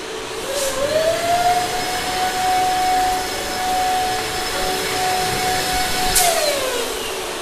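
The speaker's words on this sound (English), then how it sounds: "These are pretty small and strong, so it's very hard to do with an electric pump." An electric balloon pump whirs loudly and continuously up close, its motor pitch holding steady while it strains to inflate small, strong balloons.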